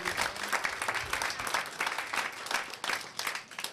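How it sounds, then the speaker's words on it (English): Applause from a comedy club audience at a live stand-up show, a dense, steady patter of many hands clapping that holds through the whole stretch with small swells and no talk over it. "Give yourselves a round of applause for enjoying live comedy."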